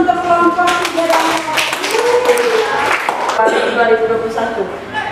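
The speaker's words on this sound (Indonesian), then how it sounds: "kita kasih aplaus untuk kelompok 3" A group gives applause for group 3, a steady patter of clapping running beneath a speaking voice throughout.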